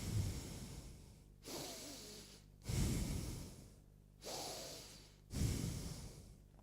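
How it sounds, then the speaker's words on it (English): A man breathes heavily into a microphone at a conference talk: a slow, even series of loud, close inhale and exhale bursts separated by short quiet gaps. "you are going to hear me breathing"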